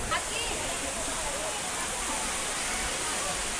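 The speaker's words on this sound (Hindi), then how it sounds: "यहाँ पर भी एक सुंदर वाटरफॉल है" A roadside waterfall in Tamhini Ghat, Kundalika Valley, pours beside the main road, a steady broadband rush of falling water that stays loud and continuous throughout.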